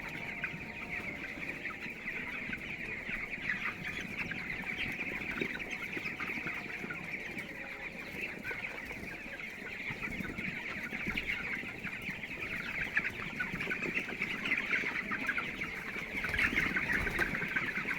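A dense, continuous chorus of many broiler chickens clucking and chirping at once, moderately distant, a steady flock murmur with no speech.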